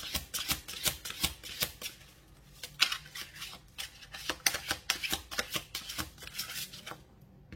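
Tarot cards are shuffled by hand in a steady run of crisp, riffling flutters and soft slaps, close and fairly quiet, lasting several seconds with no talking.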